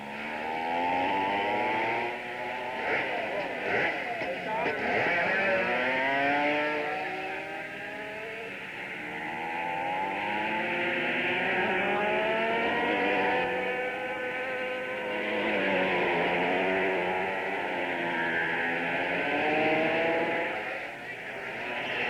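Several race car engines at a motor racing circuit in Finland rev and sweep up and down in pitch, overlapping continuously and loudly for the whole stretch.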